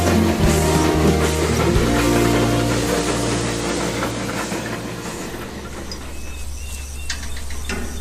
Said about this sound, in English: there can be no finer spectacle than a pair of steam engines fighting the stiff gradient